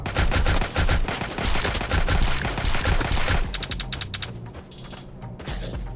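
Rapid automatic gunfire shooting at zombies in the mobile game Last War, a loud, relentless stream of crackling shots that thins into sparser bursts with electronic game effects near the end.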